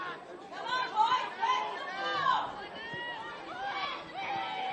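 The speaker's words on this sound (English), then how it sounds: "Crowd have certainly been vocal in this one this morning" Crowd at a junior under-12 football grand final, a steady murmur of chatter and shouting voices with occasional louder swells, fairly close and continuous throughout.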